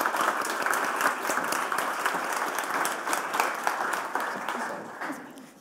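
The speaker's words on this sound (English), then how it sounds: "I'd like a big hand of applause to welcome Patrick to the stage." A conference audience applauding steadily for several seconds, dense overlapping claps that start strong and begin to thin out at the end.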